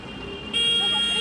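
Cracked, broken car horn blaring in a short, harsh, buzzy honk amid city traffic, with a voice speaking alongside it.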